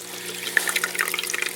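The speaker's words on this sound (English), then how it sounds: "Got some water coming through there." Water pumped through a homemade water-bottle hydroponic system, a light splashing trickle with small drips, steady and close for the whole stretch.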